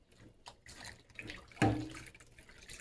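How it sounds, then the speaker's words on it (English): Tap water runs into a kitchen sink while a skillet is washed, a quiet splashing trickle with small knocks, then a louder close gush partway through. "Washing this skillet first."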